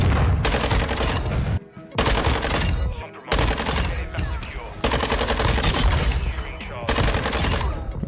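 Bizon submachine gun in Call of Duty: Modern Warfare II firing loud, rapid automatic bursts in several long strings, each broken by brief pauses, with gameplay effects layered underneath.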